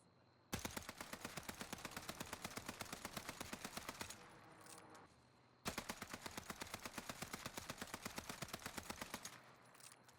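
Two long, loud automatic bursts from a Warzone rifle fitted with a Vanguard rear grip, rapid evenly spaced shots each lasting about four seconds, separated by a short pause with faint ambience.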